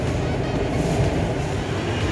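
A Mumbai Metro Line 7 train runs along the line with a loud, steady rumble and a dense rolling roar that holds constant from start to finish. Nobody speaks.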